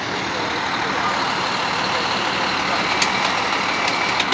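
A fire truck's engine rumbles steadily nearby at a major fire in Montreal's Chinatown, a broad continuous roar with a few faint high beeps toward the end.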